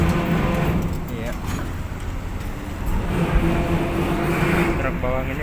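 A truck loaded with onions rolls off a ferry, its engine rumbling steadily at close range under continuous people talking.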